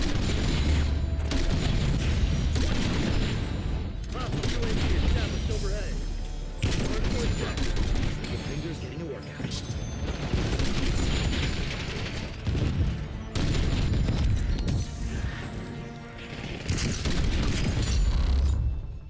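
Grenade launcher rounds fired in Black Ops 6 multiplayer, heavy booming blasts and crackling gunfire in a dense, continuous battle mix, with a player talking over the noise.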